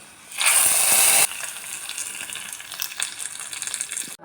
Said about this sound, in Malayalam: ഇനി ഇതിലേക്ക് ഉണക്കമുളകും കറിവേപ്പിലും നന്നായിട്ടൊന്ന് മൂപ്പിക്കാം